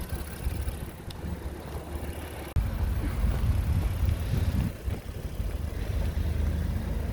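A 2019 Honda Odyssey Elite idles smoothly, a low, even engine hum close by. A faint click interrupts it briefly partway through, then the steady rumble carries on.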